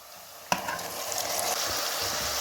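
Onions, tomato and green chilies sizzle and fry in a pan for chicken biryani, a sharp clatter of stirring at the start giving way to a steady, close hiss of frying.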